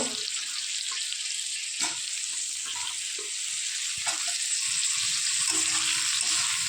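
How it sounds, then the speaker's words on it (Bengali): Washed, cut cauliflower fries in a pan with a continuous bright hiss, while occasional utensil scrapes and taps from stirring break through at close range. "কেটে রাখা যে ফুলকপি ভালো করে ধুয়েও রেখে দিয়েছিলাম তো এগুলো দিয়ে দেব দিয়ে ভালো করে কষিয়ে নেব"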